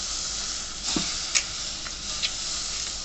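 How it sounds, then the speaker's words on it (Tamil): Crushed tomato sautéing in a pan for crab rasam, giving a steady close sizzle and hiss with a few light clinks from stirring, no voices. "இப்போ இந்த தக்காளி அப்படியே நசுக்கி போட்டுக்கலாம்."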